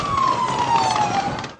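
A police siren wails loudly during a car chase after bank robbers, its tone sliding slowly downward in one long sweep, with traffic noise rumbling underneath.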